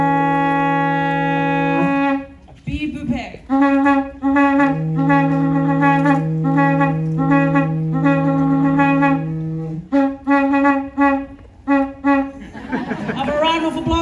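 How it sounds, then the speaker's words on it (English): Tongan kele'a conch shell trumpet sounding long, sustained, steady tones in several blasts, loud and near, with brief breaks and a little speech around them during a Tonga Village show at the Polynesian Cultural Center. "So when you hear the kele'a playing this fashion back in the days,"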